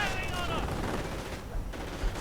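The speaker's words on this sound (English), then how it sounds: "Rangers moving in towards the flank grenades going off" Gunfire and grenade blasts rattle through a World War II strategy game battle as Rangers push a flank against Panzer Grenadiers, a dense continuous barrage of shots and explosions under steady commentary.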